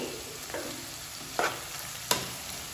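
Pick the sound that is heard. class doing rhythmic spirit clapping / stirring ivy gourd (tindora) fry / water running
stirring ivy gourd (tindora) fry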